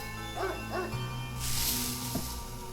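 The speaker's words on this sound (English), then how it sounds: "The dog barks loudly" A dog in the video game Spirit Hunter: Death Mark gives two quick barks, then a whimpering yelp, over a low, eerie ambient hum with a rushing swell.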